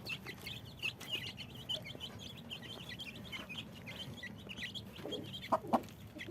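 Faint high peeps from small chicks repeat throughout, with a couple of louder chirps near the end over a low steady hum.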